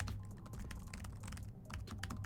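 Fingers type on a Dell XPS 15 9500 laptop keyboard, a quick, close run of soft, slightly muffled key taps in an uneven rhythm with no talking.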